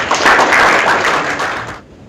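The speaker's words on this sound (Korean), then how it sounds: "여러분 큰 박수 부탁드립니다" An audience at a Liberation Association ceremony launching a special committee bursts into loud, dense applause that holds steady, then tapers and cuts off near the end.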